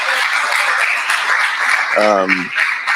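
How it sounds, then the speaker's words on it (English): A steady wash of audience applause at a design school event fills the clip, with a voice briefly rising above the clapping near the end. "So really, a round of applause to you."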